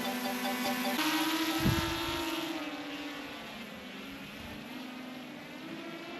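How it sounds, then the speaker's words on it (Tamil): DJI Mini 4 Pro drone motors whirring in a steady high-pitched buzz, with a brief rise in pitch as it speeds up, then holding an even, continuous drone, fairly close, no talking. "இப்போ ட்ரோனை பறக்க விட்டுலாம்."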